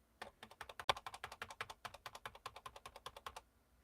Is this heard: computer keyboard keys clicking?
yes